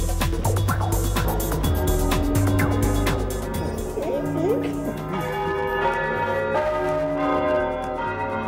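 Large church bell in Bologna ringing continuously with long overlapping resonant tones, loud and close, with a voice talking over it.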